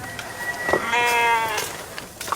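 A single animal bleat from a cow being fed, a rising, wavering call of about one second that sounds fairly close, with faint clicks and rustles before and after.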